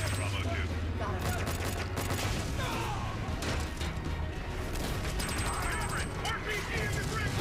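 TV drama firefight with dense, rapid gunfire and clattering mechanical bursts over a heavy low rumble, loud and continuous, with shouted voices mixed in.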